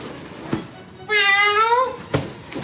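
A person imitates a cat with one drawn-out, rising-then-falling meow, loud and close, set between quieter vocal sounds before and after.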